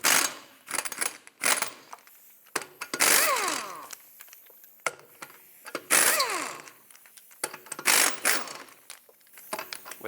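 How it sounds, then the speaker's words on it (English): Power tool spinning off the lug nuts of a 2007-2010 Chrysler Sebring rear wheel with a 19mm socket, giving several loud ratcheting bursts separated by short quiet gaps and clinks at close range. "take off all 5 of your lug nuts."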